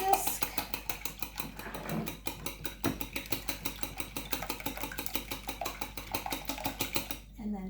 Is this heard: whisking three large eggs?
yes